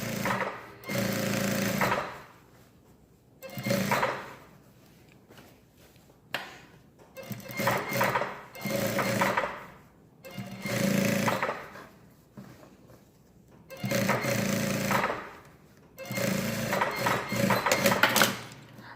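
A sewing machine stitches a trouser seam in several rapid whirring bursts of about two seconds each, separated by short quiet pauses, close and clear with no voices over it.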